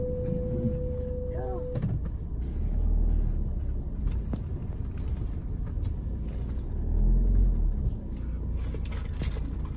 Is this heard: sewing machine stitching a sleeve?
no